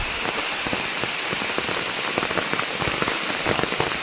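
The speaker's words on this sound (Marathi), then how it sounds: "आणि पाऊस पण आता आलाय टायमावर बरोबर." Steady rain patters down through a forest in Konkan, a dense continuous hiss with scattered heavier drops striking leaves and surfaces, close and enveloping with no voices.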